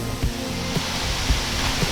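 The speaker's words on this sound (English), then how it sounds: "So you could probably hear the waterfall in the background." A waterfall at Palisades Interstate Park rushes as a steady, broad hiss in the background, continuous and fairly loud, with a few soft thumps nearby.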